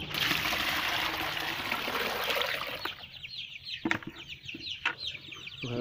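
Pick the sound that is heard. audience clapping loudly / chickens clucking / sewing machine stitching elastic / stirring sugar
chickens clucking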